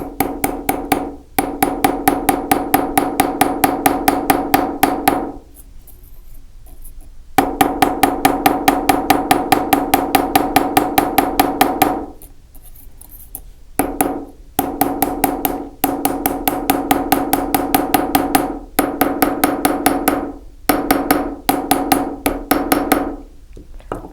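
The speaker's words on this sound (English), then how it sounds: "I'm going to bring my chasing hammer in, and I'm actually going to splay out the metal to about 5 millimeters" A steel chasing hammer strikes soft aluminum rivet heads, spreading them flat on a jewelry pendant. The taps fall in fast, steady bursts of closely spaced ringing strikes, with several short pauses between runs, close and fairly loud, with no voices.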